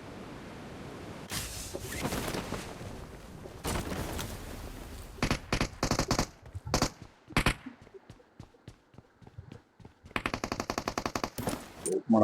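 Gunfire in BGMI battle royale gameplay: bursts of automatic fire and separate single shots in uneven clusters, ending with a rapid sustained volley, heard mostly without talk.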